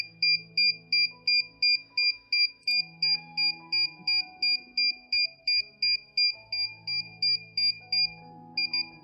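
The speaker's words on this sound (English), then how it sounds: "after a few seconds you can hear the confirmation from the beeping, and also beeps will go off" DJI RC remote controller sounds a long run of evenly spaced, bright double-toned beeps while pairing with a DJI Mini 3 drone, steady and close, over faint background tones.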